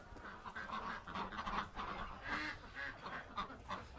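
Several ducks quack and honk in a soft, repeated chatter, fairly faint and somewhat distant.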